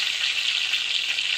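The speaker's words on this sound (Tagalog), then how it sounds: "piniprito ko dahil gusto mong ilagay sa gulay" Tulingan fish frying in a pan, a loud, steady hiss of hot oil sizzling continuously without pause.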